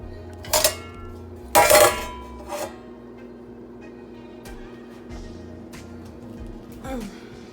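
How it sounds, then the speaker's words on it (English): Mushrooms go into a pot of ogbono soup with a few sharp metallic clanks and scrapes of spoon against pot, then quieter stirring and shuffling. "So let's put the mushroom on the soup."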